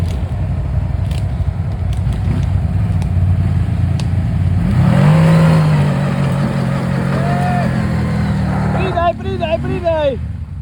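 CF Moto X1000 side-by-side engine revving hard under throttle on a rough unknown trail, a loud sustained roar rising in pitch, with excited voices shouting over it near the end.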